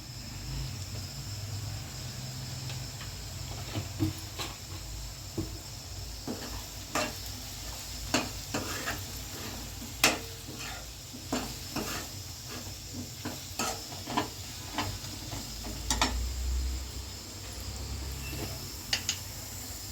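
Chili powder is stirred into a drumstick and chana dal curry frying in a pan, with a soft continuous sizzle and intermittent clinks and scrapes of a spoon against the pan, fairly quiet, no speech.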